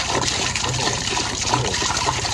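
Outdoors, water runs steadily into gallon containers, a continuous close trickling gush with no one talking over it.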